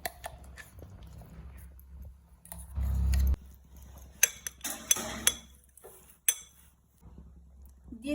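Mashed taro being poured into a bowl with utensils, with soft wet squishing and a muffled thud followed by several sharp clinks of metal against the bowl, fairly quiet and close.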